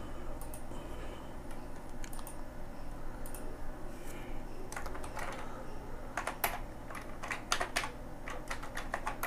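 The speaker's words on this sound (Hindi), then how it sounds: "अभी टेक्स्ट लिख लेते हैं" Text typed on a computer keyboard while designing a banner in CorelDRAW, with soft, close clicking keystrokes in uneven bursts that grow quicker and crisper near the end over a faint steady hum.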